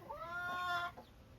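Hens clucking in a backyard pen on a hot day, a short burst of harmonic, rising-and-falling clucks that is fairly loud and close, then a brief softer call.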